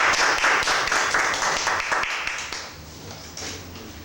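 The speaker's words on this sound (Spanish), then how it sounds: "Vamos a recibir a nuestro expositor con un fuerte aplauso." A crowd claps to welcome a speaker at a children's literature talk, a brisk burst of distinct handclaps that thins out and fades after a couple of seconds, leaving quiet room tone.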